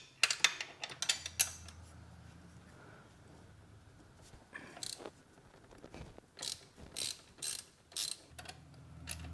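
A ratchet wrench loosens a 14mm bolt on the pitch stop of a 2022 Subaru WRX, giving quiet bursts of rapid clicking separated by short pauses, close by.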